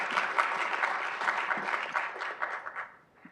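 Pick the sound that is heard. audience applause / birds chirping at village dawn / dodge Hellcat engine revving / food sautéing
audience applause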